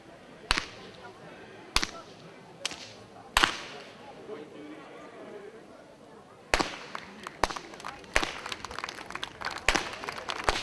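Sharp whip cracks from whip crackers at a Hungarian harvest festival ring out singly at first, then in a quicker irregular flurry, loud and near over a murmuring outdoor crowd with a voice talking.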